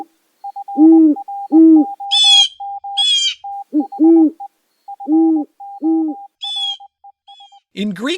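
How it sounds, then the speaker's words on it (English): An owl hoots in a repeated series of deep, paired calls close by, interleaved with a steady pulsing tone and a few higher bird chirps, ending in a brief noisy burst. "take a closer look at those nocturnal birds of prey, the owls"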